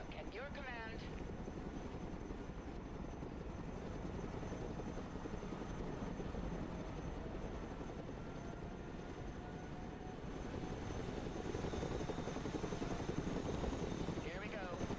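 A Chinook helicopter in the video game Broken Arrow drones steadily with a thick, continuous rotor and engine roar that holds at an even level from start to finish.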